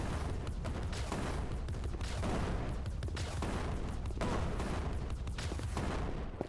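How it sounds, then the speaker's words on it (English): Rocket launcher blasts in the tower-defense video game Crystal Defense, a dense, continuous barrage of booming fire and explosions with no pause, steady and loud throughout. "This rocket launcher should help to clear out most of them."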